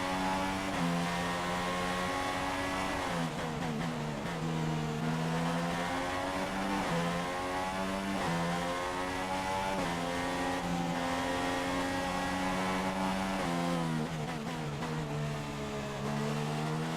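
Engine of an F1 race car in the F1 2016 video game, a loud, close, steady high-pitched whine that drops on upshifts and climbs again as it accelerates out of a corner.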